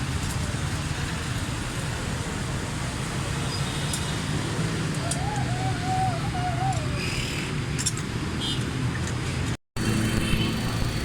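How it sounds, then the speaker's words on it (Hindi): A Honda Civic engine idles after a spark plug fix, giving a steady low rumble throughout. A short warbling whistle rises above it midway, and the sound briefly drops out near the end. "गाड़ी का साउंड बिल्कुल ज़बरदस्त है"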